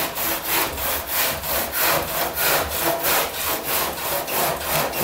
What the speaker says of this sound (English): just let the saw run through, keep it leaning, just keep pushing it backwards and forwards